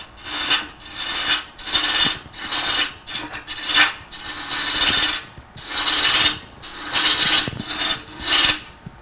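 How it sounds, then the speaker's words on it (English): A roughing gouge shaving wood on a spinning lathe while turning a two-part vase, giving repeated loud rasping bursts as the tool passes back and forth, each lasting about a second with short gaps between. "I can continue to use my roughing gouge somewhat to rough some of this away."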